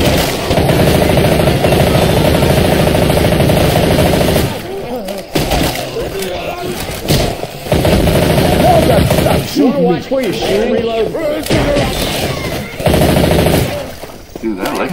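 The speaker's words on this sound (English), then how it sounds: "Sure, watch where you're shooting." Bursts of rapid automatic gunfire in Left 4 Dead 2, loud and close, broken by pauses where voices talk, then more sustained firing resumes.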